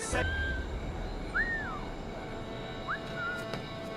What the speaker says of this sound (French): on pourra les siffler pour les attirer dans un buisson